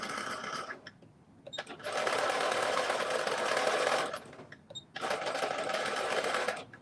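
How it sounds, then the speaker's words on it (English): A sewing machine runs zigzag stitches in two long bursts of rapid stitching, with a short pause between, close and loud. "I lay it under the sewing machine. And I use that same zigzag stitch to go back and forth"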